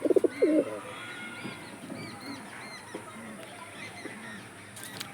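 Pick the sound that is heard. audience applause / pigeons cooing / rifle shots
pigeons cooing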